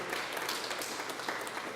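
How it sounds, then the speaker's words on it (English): Audience applause at a media conference, a steady wash of many hands clapping at moderate level throughout with no gaps, slightly distant in the room. "they're applauding for you as well, Michael"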